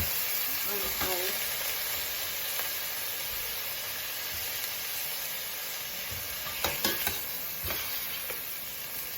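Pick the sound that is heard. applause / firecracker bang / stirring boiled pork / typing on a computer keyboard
stirring boiled pork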